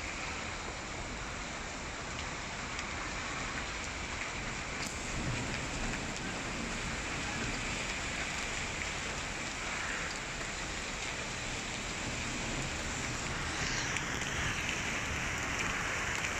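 Steady heavy rain pours onto surfaces outdoors in the Tagamoa district, a dense, even hiss that carries on unbroken throughout with no voices.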